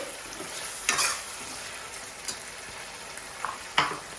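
Masala sizzling in hot oil with softening tomatoes for a mutton curry, soft continuous frying hiss with a few sharp spoon-stirring scrapes, close and fairly quiet.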